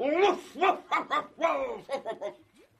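Giant Pyrenean mountain dog in a comedy radio play, a string of hoarse barks and woofs in quick uneven bursts, close and clear, likely a performer's voice imitating the dog.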